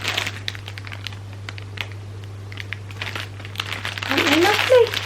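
Plastic packaging around a set of mini yarn skeins crinkles softly in scattered bursts, building to a louder rustle near the end, with a steady low hum underneath.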